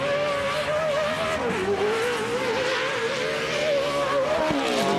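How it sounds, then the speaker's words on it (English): Off-road race truck engines screaming during a TORC race at Primm, Nevada, a loud, continuous high-pitched wail that rises and falls as the trucks accelerate, heard up close with no talk. "Listen to the sound of those engines screaming."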